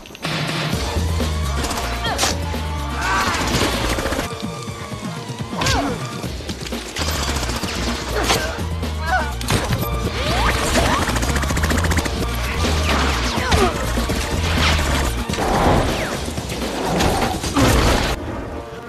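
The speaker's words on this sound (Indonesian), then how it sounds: "Mereka mulai masuk dengan memecahkan kaca jendela atas, dan terjadilah aksi tembak-menembak di sana." Gunfire and shattering window glass in a Lara Croft film action scene, heard as dense bursts of shots, crashes and whooshes over a steady score, loud and continuous throughout.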